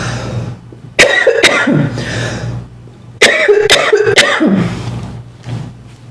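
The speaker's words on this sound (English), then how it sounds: "I'm going to cough really quick." A person coughs in two separate bursts, each made of a few sharp, close hacks followed by a brief gasp, with quiet room tone in between.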